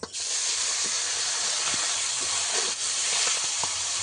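Fish sizzling in very hot mustard oil in a wok, a loud continuous hissing fry that fills the whole stretch, close up with no talk over it.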